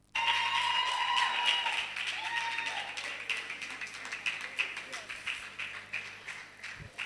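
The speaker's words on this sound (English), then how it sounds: "A round of applause for her, please" Audience applause at a conference honouring a nurse innovator, a sustained burst of clapping that starts loud and gradually thins into scattered claps, with a voice speaking over it.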